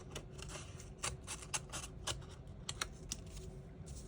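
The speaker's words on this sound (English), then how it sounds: "So let's cut this out and then maybe cut it in half." Paper being cut with scissors for a paper tree craft, with a series of crisp, close snips and short rustles at an irregular rhythm and no talking.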